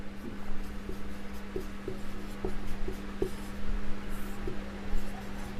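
Chalk or marker strokes on a classroom board while a maths formula for the product of two numbers is written out, a steady series of short scratchy taps and rubs at close range over a low hum.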